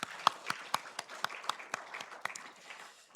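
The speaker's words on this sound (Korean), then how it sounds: "우리 시온 찬양대 찬양 그리고 우리의 찬양 기뻐 받으신 하나님께 영광의 박수" A church congregation claps in a steady, even rhythm, about four claps per second, after the choir's hymn at a Sunday service; the clapping sounds moderately distant and soft.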